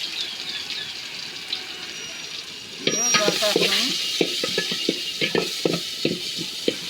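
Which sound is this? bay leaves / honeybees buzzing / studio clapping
bay leaves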